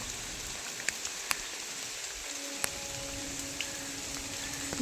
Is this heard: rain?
yes